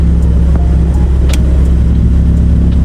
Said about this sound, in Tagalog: pagka ino-on nyo yung fan ng AC nya, tumataas yung minor